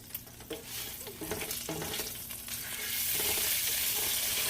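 Meat scraps frying in a pan, a close crackling sizzle with a few utensil clinks early on, building to a louder, denser hiss toward the end, with no talking.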